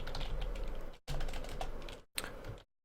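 Rapid, close clatter of fingers typing on a computer keyboard in three bursts separated by brief pauses, with no voice.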